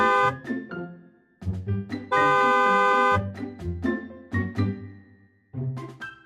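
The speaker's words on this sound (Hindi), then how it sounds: "पीछे वाला जोर जोर से हॉर्न बजाकर" A car horn honks in several short toots and one longer blast, fairly close, with pauses between.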